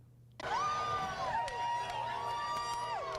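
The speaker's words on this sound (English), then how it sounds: "That's the sound of parade goers gathering in downtown Atlanta to cheer on gay pride" Parade crowd at the Atlanta Pride Parade downtown erupts into loud sustained cheering and whooping after a short quiet start, with high shrill voices carrying over the din.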